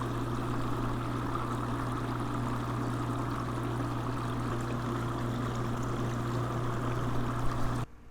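A small water pump runs steadily while draining the last water from a 5-gallon bucket, giving a constant hum with a watery trickle, close and unbroken until it cuts off at the very end.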